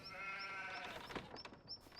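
Sheep bleating in Farming Simulator 25 while the flock feeds at a farm pen, a few wavering bleats repeating over steady ambient farm noise, moderately close and with no one talking.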